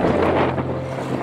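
A fishing boat about 24 to 25 metres long and nearly 7 metres wide at Da Nang, a steady low engine drone mixed with heavy wind buffeting the microphone, continuous and close.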